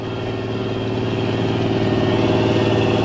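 A tractor pulls a bedder through a cotton field, its engine holding a steady, loud, continuous drone with a low rhythmic throb that builds slightly and stays close throughout, with no voices.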